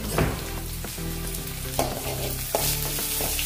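A spoonful of coarsely crushed cumin and garlic is stirred in a hot pan for Maharashtrian pitla, with a continuous close sizzle broken by occasional scraping strokes of the spoon.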